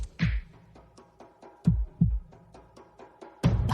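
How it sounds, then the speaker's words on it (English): A deep, thumping heartbeat effect plays over a gaming tournament stream, with low double-thud pulses repeating in a steady rhythm and a brighter hit near the end. "Starting up here, we got the heartbeat going"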